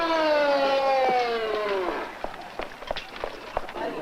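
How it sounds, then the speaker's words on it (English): An ambulance siren wails with a steady, slowly falling tone for about two seconds, then cuts off, leaving scattered sharp knocks and thumps like hurried footsteps. "Ambulance en route,"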